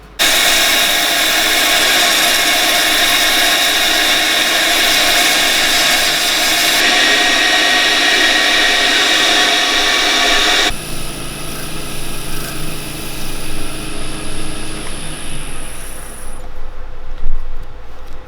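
Reclaimed timber from a thermo-ash glue-up spins on a wood lathe while sandpaper is held to it, a dust extractor roaring steadily and loudly, then the noise drops to a lower hum with lighter scraping toward the end.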